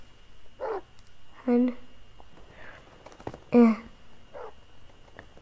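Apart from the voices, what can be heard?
dogs barking in Minecraft video game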